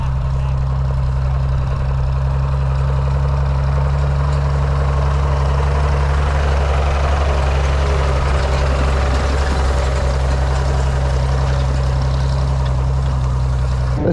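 A 500-600 horsepower tractor engine pulling a rake slowly through thick ryegrass on a farm, a loud, steady low-pitched drone that holds constant throughout.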